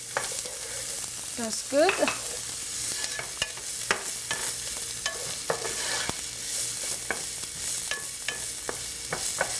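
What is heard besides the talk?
onions frying in a pan for sweet potato futari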